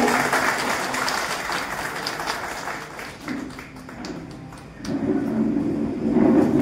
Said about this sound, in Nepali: जोरदार तालीले स्वागत गर्ने हो।